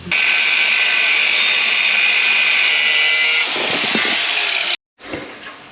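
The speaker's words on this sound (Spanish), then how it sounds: "vamos a hacer unos cortes con la amoladora y a ver cómo queda" An angle grinder cuts through an iron bar at close range, a loud sustained high-pitched whine that shifts to rougher grinding before cutting out abruptly and briefly spinning back up.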